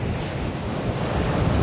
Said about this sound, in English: There's some absolutely blinding waves coming in.